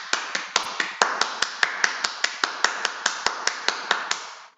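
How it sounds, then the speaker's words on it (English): A single person claps hands in a steady, even rhythm, about four sharp crisp claps per second, close and clear, with a faint hum behind. "Can you guess the reason for clapping?"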